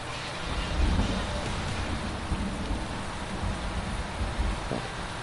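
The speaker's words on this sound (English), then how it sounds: "Waiting for the rain to stop." Steady rain hisses in Farm Simulator 2019, a dense, even downpour with low rumbling swells like distant thunder underneath, no talking.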